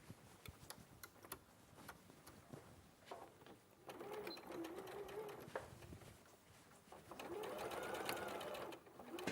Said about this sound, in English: Oh, I stitched over my pin.